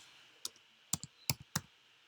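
Several quick, sharp key taps on a computer keyboard while entering a chart indicator in a trading platform, in short irregular bursts, close and fairly quiet with no talking.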